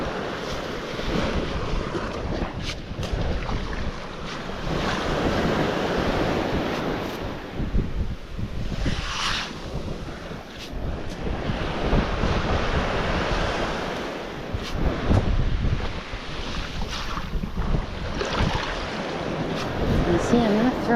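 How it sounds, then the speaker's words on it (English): Ocean waves washing onto a beach at Manasota Key, a continuous rolling surf roar with wind buffeting the microphone, steady and fairly loud throughout with no clear pauses. "I'm not throwing it as far away because the waves are not hitting as high"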